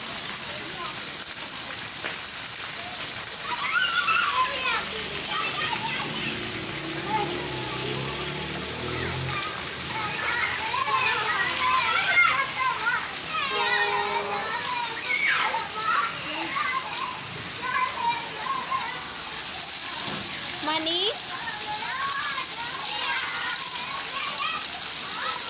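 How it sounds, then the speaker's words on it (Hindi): Steady rainfall patters on a surface, with children's voices and chatter over it and occasional brief shouts. "बारिश इंजॉय हो रही है"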